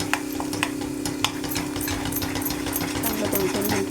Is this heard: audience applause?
no